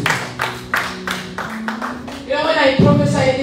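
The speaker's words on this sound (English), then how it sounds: "Let us clap hands for the Holy Spirit." Congregation clapping hands in rhythm during a church worship service, a run of steady claps layered over singing or talk, growing busier toward the end.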